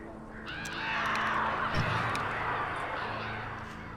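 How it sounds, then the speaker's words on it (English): Crows cawing in the video game Alan Wake Remastered, harsh calls that swell and blend into a dense wash over a steady game ambience, with a brief thump near the middle. "Back it off, birds!"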